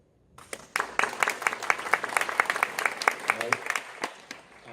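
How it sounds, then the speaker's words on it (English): An awards ceremony audience applauds with dense, steady clapping that starts suddenly and keeps going throughout, fairly loud in the room. "only when the audience claps"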